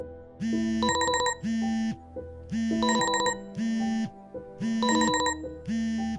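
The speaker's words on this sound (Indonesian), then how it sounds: "Alarm berbunyi." An electronic alarm rings in repeating bursts, alternating a buzzy tone with a bright trilling chime in a steady pattern.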